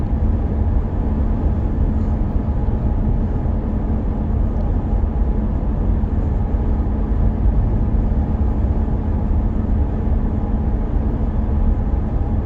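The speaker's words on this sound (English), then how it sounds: "just listen to what this sounds like at this speed inside the cabin" A 2020 C8 Corvette cruising at 72 mph on all-season tires makes a steady, broad cabin drone of road and tire roar, constant and fairly loud throughout with no talking.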